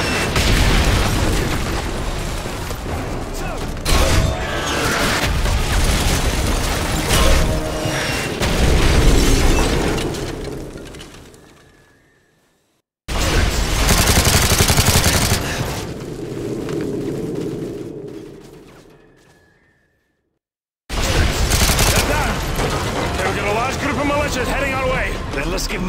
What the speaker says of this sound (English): Keep firing a mortar!